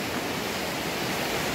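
A rough, swollen river rushing hard, a dense and continuous roar of churning water that stays steady and loud throughout with no voices.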